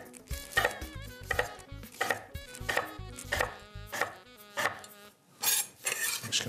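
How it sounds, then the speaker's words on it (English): A knife cutting ingredients into small chunks on a board, sounding as a steady series of crisp close chops about every half second, each with a short ringing tail. "And make some nice slices. Now I'm just doing chunks,"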